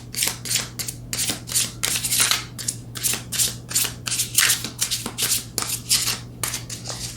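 A new, slippery tarot deck is shuffled by hand in quick, repeated riffles and flutters, close and crisp, with a steady low hum underneath and no speech.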